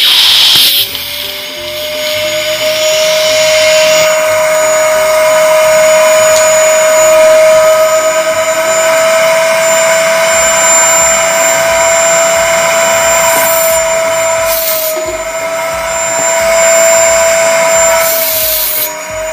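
A vacuum cleaner drones steadily as it sucks the air out of a vacuum storage bag packed with a single duvet, a loud continuous whine lasting throughout with slight shifts in pitch as the bag compresses.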